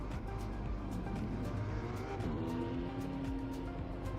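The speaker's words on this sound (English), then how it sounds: "turn the engine noise up" Race car engine in Gran Turismo 7, an online manufacturers' race, drones steadily and loudly for the whole stretch with shifting pitch, passing-car sweeps and a hint of tire noise, with no talk.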